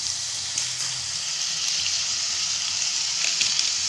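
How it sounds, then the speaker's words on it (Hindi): Nihari masala frying hard on a high flame in a pot with chicken, a steady loud sizzle with faint crackles throughout and no talk. "ये देखिए भून गया मसाला, चूल्हा मैंने कर दिया तेज"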